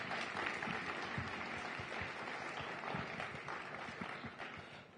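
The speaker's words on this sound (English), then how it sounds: "Let's give another round of applause for these young" Sustained applause from a large conference audience fills the whole stretch, a dense, even wash of clapping at moderate volume.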